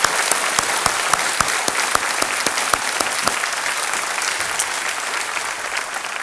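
Studio audience applause on a televised quiz show, loud sustained clapping from a large crowd with sharp individual claps standing out over the steady wash.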